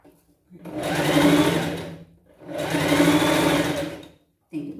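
Two long bursts of a sewing machine stitching a pet costume seam, each rising, holding steady and stopping, with a short pause between and a third burst just starting at the end.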